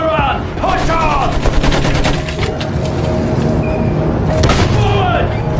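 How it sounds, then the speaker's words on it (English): Rapid bursts of loud, close machine gun fire in the World War I shooter Battlefield 1 ring out with scattered booms and shouting voices in the background. "Use that machine gun! Mow them down!"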